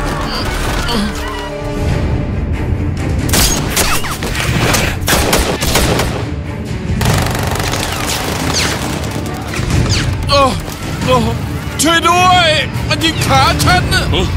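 Rapid volleys of gunfire and crashing impacts ring out in a Chinese action war film, loud and dense, mixed with shouting voices and a busy soundtrack throughout.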